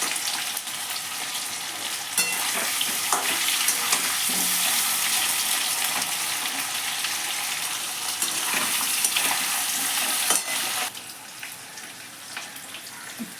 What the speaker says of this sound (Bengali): আলুগুলো ভালো করে ভাজা হোক